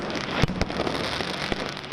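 Fireworks at a Sikh Prakash Parv festival celebration give a few sharp crackling bangs, one strong early pop and a later one, over a dense, hissing background.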